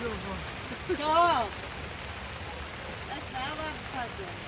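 Steady rain hisses throughout, with a voice speaking briefly over it near the start and again toward the end.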